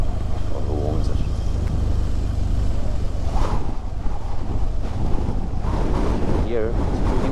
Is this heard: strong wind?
yes